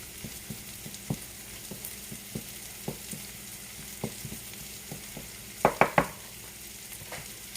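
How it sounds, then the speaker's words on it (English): Curry chicken frying in a pan and being stirred, a steady sizzle broken by regular scraping strokes of the utensil and a few louder clatters near the end, close and with no talk. "So I'll fry it up."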